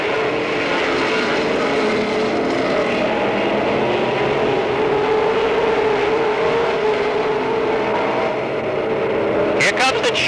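Stock race cars roar around Monadnock Speedway on the final lap of a 1990 weekly race, a continuous loud engine drone from the pack with an announcer talking over it.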